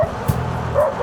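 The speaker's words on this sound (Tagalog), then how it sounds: "Uy, may dog." A dog barks near the trail at the start of a hike toward Taal Volcano, Batangas, with short yips and whimpering sounds mixed in over outdoor background noise.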